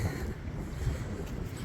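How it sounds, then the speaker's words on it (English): Steady wind gusting through a vegetable garden among kale, arugula and spinach beds, a dense low rumble buffeting the microphone with no pauses. "Nice and windy out today."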